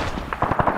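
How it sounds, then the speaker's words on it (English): Several quick gunshots from ARMA 3 military gameplay on the Invade & Annex server, a short burst of sharp reports fairly close and moderately loud over a steady background rumble. "Shots fired."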